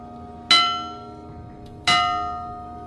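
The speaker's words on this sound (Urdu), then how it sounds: "انگریز تو چلے گئے مگر کوارٹر گارڈ میں آویزہ برطانوی دور کی گھنٹی آج بھی ضرورت کے لیے بجائی جاتی ہے" A British-era bell hanging at an army quarter guard is struck twice, each clang ringing out with a bright metallic tone and a long, slowly fading decay.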